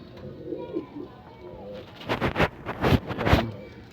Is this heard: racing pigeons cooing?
yes